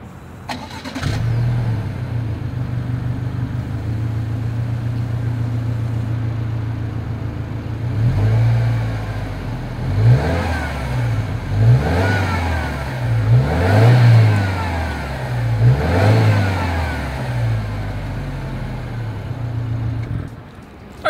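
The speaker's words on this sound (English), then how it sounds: "As always, here is that exhaust clip." A 2021 Subaru Legacy XT with dual stainless steel exhaust outlets starts, settles into a steady idle, then is revved repeatedly in short throaty bursts, recorded close and alone.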